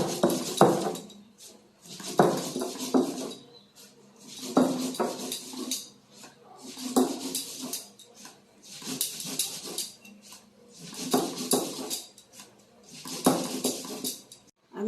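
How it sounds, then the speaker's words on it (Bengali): Soaked poppy seeds are ground with two garlic cloves and cumin in a home kitchen, in repeated bursts of scraping and clinking strokes, each lasting about a second, separated by short pauses over roughly fifteen seconds. "সেইটা এই যে পিষছি, আর 2টা রসুন আর জিরা এটা পিষে রাখছি"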